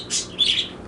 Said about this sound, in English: Stupid ass bird.